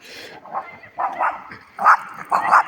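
Several short dog barks in bursts, moderately close, roughly every half second to second, over faint background noise.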